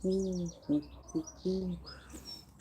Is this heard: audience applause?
no